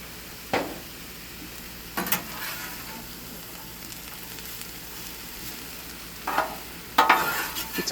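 Salt-and-pepper-seasoned food on an outdoor barbecue grill on a hot, humid summer day in Mallorytown, Ontario, giving a low, steady sizzle broken by a few sharp clicks and scrapes, with no talking.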